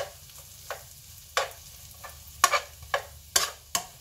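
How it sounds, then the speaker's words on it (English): Onions fry in a pan while a spatula stirs them, giving a string of sharp scraping and clattering strokes that grow more frequent over a faint, steady sizzle. "the onions are going pretty good there"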